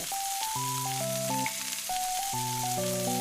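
Batter-dipped cauliflower pieces for gobi manchurian fry in hot oil in a kadai, giving a steady sizzle that sits beneath louder background music with a simple repeating melody.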